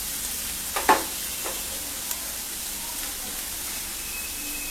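Mutton keema frying and browning in a pan, giving a steady low sizzle throughout with a few brief stirring knocks near the start.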